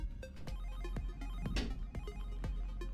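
A phone rings in a room with repeating tonal ring pulses at a steady rhythm, moderately loud and alone with no talking.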